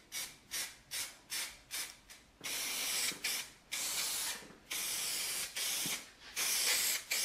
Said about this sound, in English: What are you spraying and glue on the bits you don't need it on for? Dunno. It's contact adhesive.